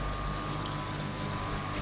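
Water from a reverse osmosis unit runs steadily as it tops up a pond, a constant close pouring hiss with no voices.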